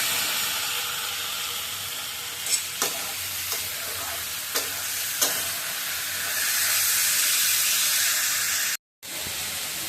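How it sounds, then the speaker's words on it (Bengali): A vegetable bhaji stir-fries in a wok with a dense, steady sizzle and hiss, a few soft stirring knocks early on, the frying close and continuous throughout. "কথাবার্তা একটু আস্তে শোনা যাবে, কারণ হচ্ছে ওই জন্য ভাজির ছিটে একটু আওয়াজ হচ্ছে"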